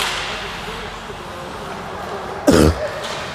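During an ice hockey broadcast, the commentator gives a single loud, close-up cough about midway through, a short harsh burst over quiet arena background.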